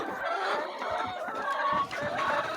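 Poultry chickens on a farm clucking and calling close by, several overlapping birds in busy, irregular bursts, with no human voices.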